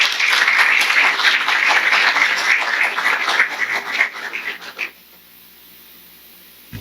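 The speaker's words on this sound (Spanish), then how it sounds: "agradecerle con un aplauso al profesor Roque Santos" An audience applauds professor Roque Santos at a book presentation on Dominican poets, clapping strongly for several seconds before breaking off abruptly into a quiet room.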